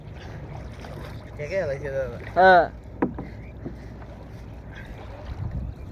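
Rowing boats racing on open water, one overtaking another, with oar strokes and splashes, wind noise on the microphone and people calling out over the scene; a loud burst of shouting midway.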